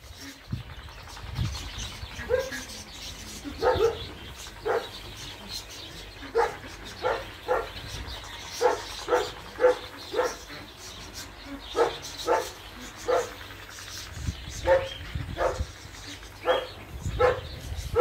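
Training dogs bark in a scattered series of short, moderately distant woofs, with birds chirping in the background of an outdoor setting.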